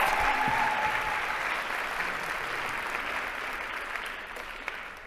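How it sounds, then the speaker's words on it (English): A large audience applauds a guest at a world forum's arts and education session, a dense, steady wash of clapping that fades slowly over five seconds, with a few whistles early on. "another big round of applause for our guest"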